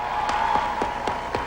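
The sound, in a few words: crowd applause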